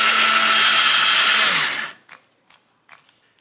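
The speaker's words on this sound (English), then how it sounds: "So I'm just going to drill some holes." A power drill whirs loudly and steadily for under two seconds while drilling holes in a plastic pot, then winds down and stops, followed by a few light clicks and taps.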